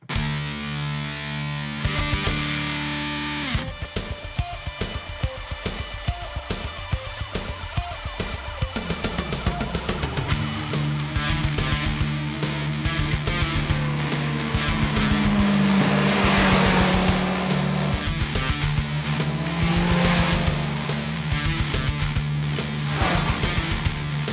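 Kawasaki Z1000 inline-four motorcycle with 138 PS being ridden: a loud, continuous engine drone that revs up and down with rising and falling pitch, with no talking.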